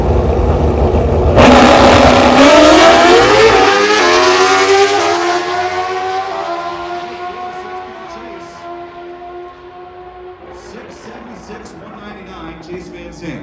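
Pro Stock drag racing motorcycles, Suzuki among them, roar hard down the drag strip, a loud, high-revving scream that peaks early and then fades gradually as the bikes pull away into the distance.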